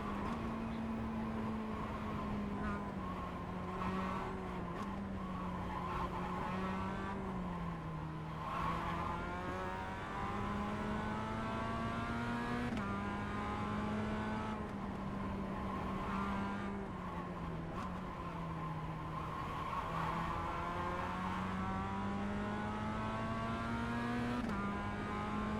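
A Mazda race car in iRacing's Advanced Mazda Cup at Mount Panorama drones steadily from the cockpit. The engine pitch rises through the gears and dips under braking, with faint tire noise.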